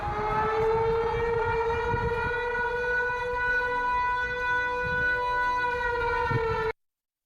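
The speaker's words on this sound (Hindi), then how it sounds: "सैटेलाइट कैमरों से तेंदुआ दिखने के बाद आसपास के 3 किलोमीटर इलाके में सायरन बजाए जा रहे हैं।" A civil defense siren sounds a steady, sustained wail that carries loud and unbroken for several seconds before cutting off abruptly, sounded as a warning after leopard sightings in Pune.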